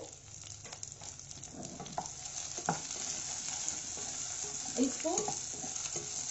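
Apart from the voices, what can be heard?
chopped onion frying in a pan with Kashmiri chili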